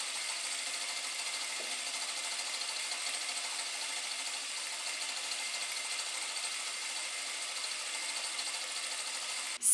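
A sewing machine runs a steady straight seam through fabric, stitching along at one centimetre from the edge; the motor hum stays even and continuous, close and moderately loud, with no voices.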